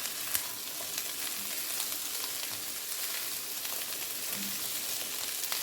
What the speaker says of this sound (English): So I'll mix this, stir fry it for another 2 minutes.